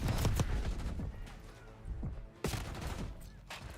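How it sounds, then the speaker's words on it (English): Video game gunfire crackles in bursts of rapid shots, close and fairly loud, with a sharp volley near the middle and scattered pops around it. "maybe fucking shoot your gun and kill him then"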